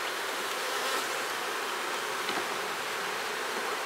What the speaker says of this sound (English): I can hear that roar, that queenless roar.